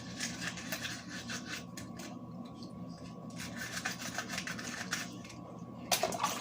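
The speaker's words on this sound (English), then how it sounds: "maybe scrub it with the aluminum to encourage the chemical reaction" Aluminum rubs and scrubs against sterling silver during bleach oxidation removal, a soft, irregular scratching that stops briefly before resuming, ending with a sharper clink.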